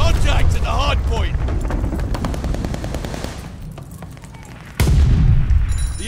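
Call of Duty Vanguard gunfire and explosions: rapid automatic shots crackle under shouting voices, then a sudden heavy boom of a glide bomb lands near the end, followed by a louder rumbling blast.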